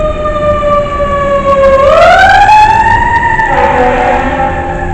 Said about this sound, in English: See, there's a fire truck, a siren.